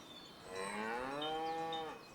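A cow lowing in the Farming Simulator video game: a single long, drawn-out moo lasting over a second, clear and close, with no other sounds around it.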